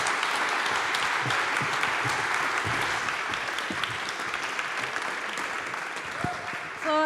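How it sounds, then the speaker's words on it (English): A conference audience applauds two professors at a tech salon event, steady dense clapping filling the room from start to finish, with a brief voice breaking through near the end. "a round of applause for Professor Schieferdecker and Professor Geraci"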